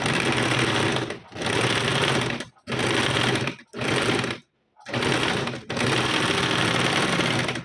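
An electric sewing machine runs a half-inch seam on a size 38 four-tuck blouse in several loud, fast, rattling bursts, each broken off by brief pauses.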